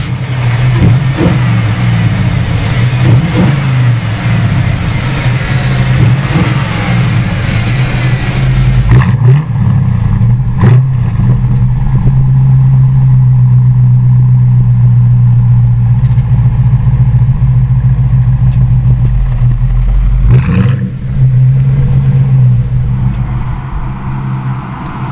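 A 1937 Hudson Terraplane resto-mod street rod's engine runs loud and close, a deep steady rumble that rises in a few revs and settles back to a heavy idle.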